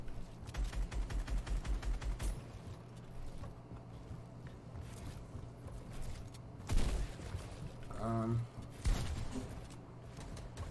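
Gunfire in a Fortnite match, including shotgun blasts, comes as a rapid burst of repeated shots followed by a few heavier single booms, mixed with game effects and dense background noise, with no talking.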